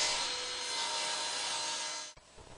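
Wooden apron rails for a child's table being sawn to width on a power saw, a steady close whine with a constant hiss that stops abruptly after about two seconds.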